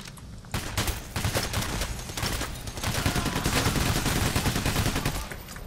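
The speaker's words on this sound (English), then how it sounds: "I'm just shooting down the hallway, dude" Dense, continuous video game gunfire from Payday: The Heist as a player shoots down a hallway during a bank robbery, with overlapping bursts of shots, loud and sustained for several seconds.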